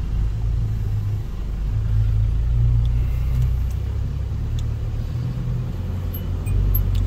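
A small general-goods truck starts up and pulls away during a driving test, its engine a steady close rumble that swells slightly as it moves off, with no talk.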